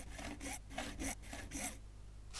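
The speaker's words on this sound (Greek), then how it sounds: "Πριώνησε πρώτα το κάτω σημάδι με το σιδηροπρίωνο και έπειτα στο πάνω." A hacksaw cuts through a plastic rainwater downpipe in steady back-and-forth strokes, five or six rasping passes in an even rhythm, close and clear, with no voices.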